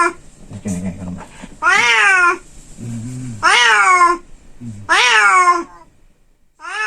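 A cat poisoned, likely by rat poison, gives three long, loud, wavering meows close up, separated by pauses filled with low growling and soft throaty sounds, with a fourth cry starting at the end.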